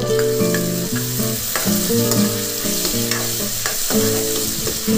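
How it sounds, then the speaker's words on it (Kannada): Finely chopped tomato, a single one, stirred into a hot pan with green chilies, with steady loud sizzling and repeated rhythmic scrapes of a spoon against the pan throughout, no voices. "ಈಗ ಟೊಮೊಟೊ ಹಾಕ್ಕೊತಾ ಇದ್ದೀನಿ"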